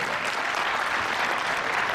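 A burst of crowd applause, many hands clapping together in a dense, steady roar throughout.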